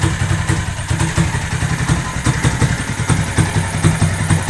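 A motorcycle engine used as a generator idles loud and close with a fast, steady, slightly uneven chugging rhythm, its carburetor needing cleaning and lacking an air filter, with no talk over it.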